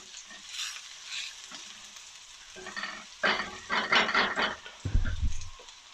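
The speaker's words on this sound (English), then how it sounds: "Next, those shiitake mushrooms. Get them going a bit." Shiitake mushrooms sizzle as they are stir-fried in a pan for Korean spicy octopus stir-fry, the crackle swelling in bursts with stirring and growing louder toward the end.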